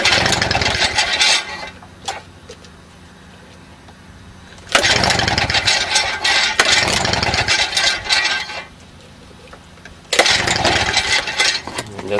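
A Victa Power Torque lawn mower that won't start is pulled over three times, each burst of engine cranking sputtering loudly for a few seconds and then dying back to quiet, with no engine catching.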